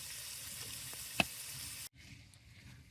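Sirloin steak sizzling in a pan on a camp stove inside a hot tent at sunset near Worms Head, a steady broadband frying hiss with one sharp pop, then cutting to a quieter sizzle.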